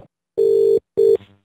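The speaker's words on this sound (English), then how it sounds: "the phone just keeps ringing" Ringback tone on a phone line during a prank call to McDonald's: two steady electronic tone bursts of under half a second each, separated by a short pause, clear and alone.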